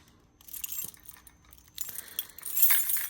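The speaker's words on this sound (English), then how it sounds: "Trying to find my keys. I have a whole mess of keys here." A big bunch of keys is rummaged and jangled nearby, with bright metallic clinks coming in short bursts that grow busier and louder toward the end.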